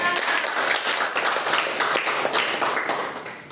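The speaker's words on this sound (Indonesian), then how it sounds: "Beri tepuk tangan dulu untuk kita semua" Students in a classroom clap together during a microteaching lesson on solar eclipses, a dense, steady patter of many hands filling the room for several seconds.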